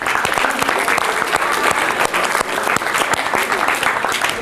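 Students in a school assembly hall break into steady, dense applause for their principal, a loud, continuous wash of clapping with faint voices mixed in.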